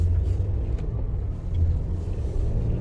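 A 2024 Nissan Frontier pickup engine at about three-quarter throttle while driving, giving a steady low rumble and drone heard from inside the cab with no talk.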